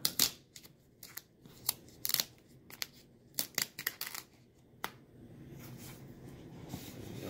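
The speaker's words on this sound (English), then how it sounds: "Peel that off like so." Plastic film being peeled off Xbox Series S packaging, heard as a run of sharp crackling rips and crinkles that give way to softer, steady rustling toward the end, close and quiet.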